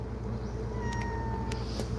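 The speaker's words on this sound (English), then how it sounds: "And my cats keep getting out of my camper." A housecat meows near a camper, the calls rising over a steady low engine-like hum that runs throughout, with a few brief sharper tones cutting in.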